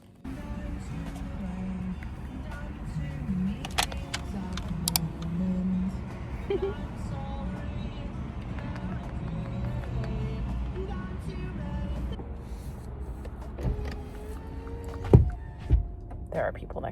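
Family car heard from inside: a couple of door thunks and a steady low road rumble while it drives, with people talking throughout and a few sharp knocks near the end.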